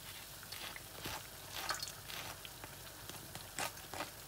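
Bean ball burger patties frying in oil, a faint, steady crackling sizzle with scattered pops, quiet and alone with no voices.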